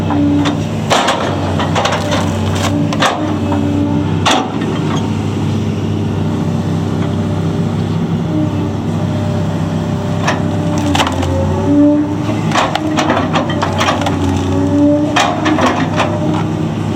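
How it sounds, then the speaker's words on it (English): A big log of wood is split by a loud, continuous engine-driven machine. Its steady drone is broken by repeated sharp cracks and splintering knocks. "So pretty much the big logs like that has got to be split up"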